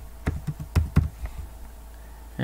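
A handful of sharp, close keystrokes tap out on a computer keyboard in an uneven burst, then a quiet pause before one last click.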